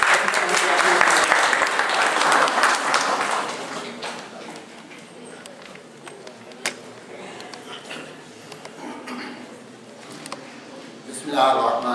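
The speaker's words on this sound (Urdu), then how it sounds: "ہم زوردار تالیوں سے آپ کا استقبال کرتے ہیں۔" Loud applause from an audience welcoming a speaker at a book launch, a dense wash of clapping that swells for the first few seconds, then thins to scattered claps with a brief renewed burst at the end.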